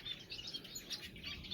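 A small finch, likely a Gouldian or parrot finch kept in an aviary, sings a thin, high, twittering song of rapid chirps and tweets, fairly faint and continuous, with no voices.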